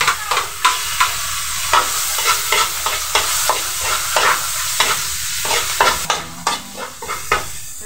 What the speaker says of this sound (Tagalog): Ngayon po magigis na tayo ng bawang